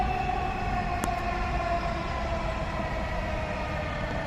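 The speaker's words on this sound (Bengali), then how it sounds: "মেট্রো রেল অলরেডি আসছে" An electric metro train rumbles and hums steadily as it draws into Uttara Centre Metro Station in Dhaka, a continuous tonal drone with one sharp click.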